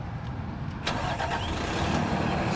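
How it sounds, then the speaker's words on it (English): A new 2022 Freightliner M2 106 Summit Hauler truck engine cranks and catches partway through, then settles into a steady, rumbling idle close by. "start the truck."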